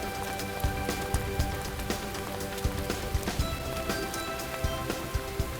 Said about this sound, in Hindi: बारिश कहाँ से आ गई चलो यार?